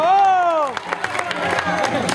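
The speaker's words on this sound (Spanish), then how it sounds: "¡Fuerte el aplauso!" Audience applause at a live show with a tightrope act follows a shouted voice, then breaks into loud, scattered clapping from a nearby crowd.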